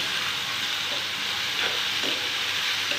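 Salted tomatoes cook in a pan, giving a loud, continuous hiss of frying with soft stirring bumps underneath and no voices.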